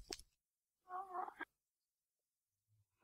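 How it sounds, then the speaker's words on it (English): Ghast cry from the Minecraft game: one short, wavering, moaning wail of about half a second that rises out of near silence, with a brief click just before it and a faint low sound after. "I can hear a ghast out there somewhere."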